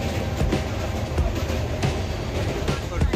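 Coromandel Express passenger train running near Bhubaneswar, a steady rumbling roll with faint rhythmic clatter heard from inside the carriage, continuous and moderately loud throughout.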